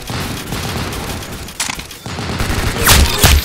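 Bursts of gunfire in a first-person shooter video game, sharp rapid shots clustered near the start, around 1.6 seconds and heavily near 3 seconds, loud over a continuous game background with no talking.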